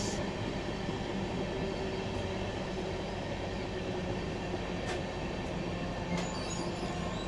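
The North East Express passes another train at an Indian railway crossing, a continuous rolling rumble and rattle of coaches with faint wheel squeal, heard steadily at moderate distance without talk.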